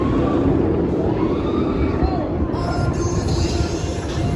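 A roller coaster at Six Flags Magic Mountain launches with a rising mechanical whoosh and rumble over steady crowd noise, a faint whine climbing in pitch before fading.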